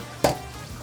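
Chicken wings frying in a restaurant fryer give a sudden loud burst of sizzle that quickly fades to a steady low crackle, with no talking.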